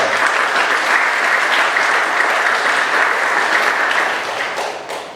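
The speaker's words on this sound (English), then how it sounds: "please put your hands together and give them a round of applause." An audience at a TEDx youth event at Granite Bay High School claps loudly and steadily, the dense applause tapering off near the end with a few last claps.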